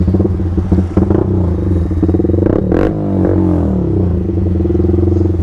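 A Yamaha R15 V3 motorcycle fitted with an Akrapovic full-system exhaust idles and blips its throttle close by, a loud, pulsing burble with sharp rev spikes and a rattly edge, no voices over it.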